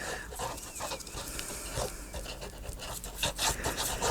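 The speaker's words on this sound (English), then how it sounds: "after you kind of scrape some of that glue out of the metal tip" Scraping dried glue out of a metal pen tip gives a steady rasping, scratching rub with short gritty strokes, close and moderately loud, with no talking.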